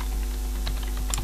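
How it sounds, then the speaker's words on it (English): Rapid keystrokes on a computer keyboard while code is typed, a quick, close run of light clicks with steady background hum and no voices. "let's try typing in document.write here"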